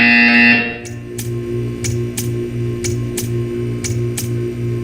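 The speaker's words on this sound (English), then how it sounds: "You will hear a buzzer." Short electronic buzzer tones from the Portal 2 video game, sounding repeatedly at a steady rhythm of roughly two per second over a droning hum after a brief louder opening tone.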